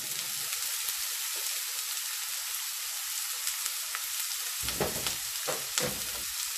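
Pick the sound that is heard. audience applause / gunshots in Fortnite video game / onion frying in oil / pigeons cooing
onion frying in oil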